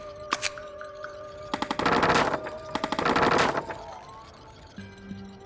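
An automatic turret in a video game fires two sustained bursts of rapid shots, close and fairly loud, with brief single shots and electronic game tones around them and no talk.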